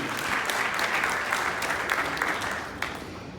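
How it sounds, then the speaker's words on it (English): An audience claps in welcome for Dr. Abou Sakarah Foster at a political gathering, a loud, sustained wash of many hands applauding, slightly easing toward the end. "A round of applause for him."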